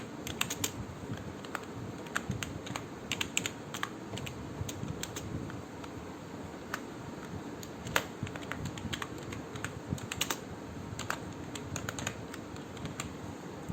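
Fast, steady typing on a computer keyboard while HTML code is entered, dense clicking keystrokes running throughout at close range with no talk.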